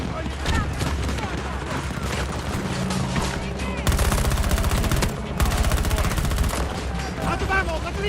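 Dense gunfire in Battlefield 2042 multiplayer, with sustained automatic bursts that swell into louder, sharper volleys partway through, surrounded by other battlefield noise and occasional speech.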